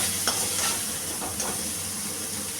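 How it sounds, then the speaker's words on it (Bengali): Small shrimp frying in mustard oil, a steady close sizzle with light stirring scrapes through the short stretch, no voices. "ভেজে তুলে রাখছি"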